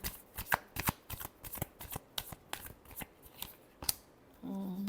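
Tarot cards are shuffled in quick riffling bursts, a rapid series of crisp slaps and flutters, with a brief faint voice near the end.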